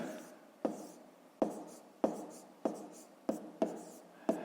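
Pen on paper while a fifth-grade maths division answer is written out, quiet close scratching strokes with a sharp tap starting each word or figure, repeating at an irregular rhythm.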